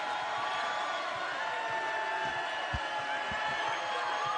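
Basketball crowd on its feet cheering in the closing moments of a period, a faint, distant, steady roar with a few low thumps beneath.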